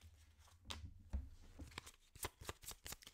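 Deck of playing cards being shuffled at a table, a run of crisp riffling bursts and snaps, close and fairly quiet, with no talk over it.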